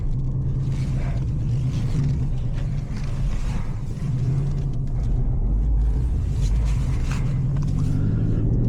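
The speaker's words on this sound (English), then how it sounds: "Driving the 2019 Ford Mustang GT." A 2019 Ford Mustang GT drives on wet roads in the rain, its engine a steady low rumble heard from inside the cabin, with road and tire hiss running through the whole stretch.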